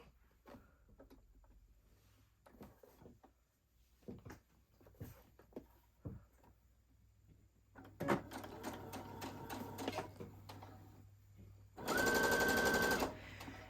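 A sewing machine runs basting stitches along a cardigan edge, starting after soft handling and rustling, then a sustained close whirring run and a faster, louder final burst, with no talking.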